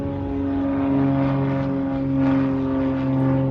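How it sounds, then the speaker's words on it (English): A small propeller airplane takes off from a municipal airport, a steady droning engine hum with strong tonal harmonics, moderately loud and continuous, swelling slightly as it climbs. "There's an airplane actually taking off from Municipal Airport"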